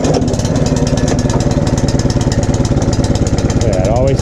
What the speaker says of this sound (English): I love that snowblower.